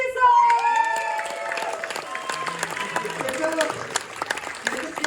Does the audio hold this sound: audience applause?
yes